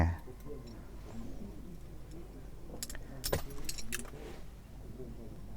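Small metallic clicks and clinks come from a Smith & Wesson Bodyguard 380 pistol as its barrel is inserted during reassembly, with a few sharper snaps near the middle over low background noise and someone talking.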